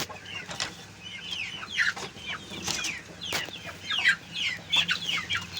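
Five young chicks chirp and cluck beside a hen, a series of faint, high peeping calls at irregular intervals over quiet background noise.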